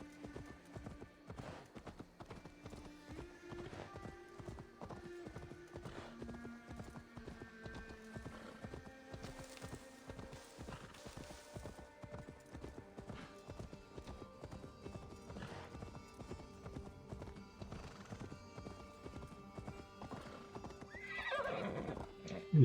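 A horse's hooves clip-clop in a fast steady rhythm in the video game Assassin's Creed Valhalla, under a musical score, with a neigh breaking in near the end.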